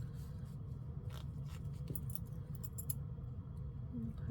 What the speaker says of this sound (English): So we're going to get our zipper pull.